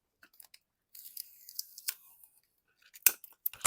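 Scissors snip close by in a few quick, crisp cuts, separated by quiet pauses, with a sharper snap near the end.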